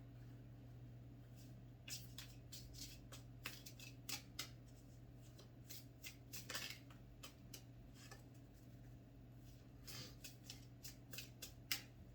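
A deck of cards is shuffled several times, crisp riffling bursts at an uneven pace over a steady low hum, fairly quiet and close.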